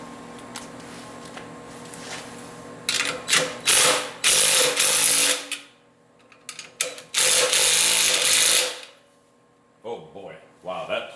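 A ratchet with a deep socket works on a Coleman generator in several bursts of rapid clicking, close and loud, separated by pauses, with some quiet background hum.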